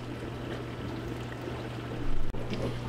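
Purified water pours into a bowl of American long grain rice for washing, a continuous close splashing trickle with a brief louder gush near the end.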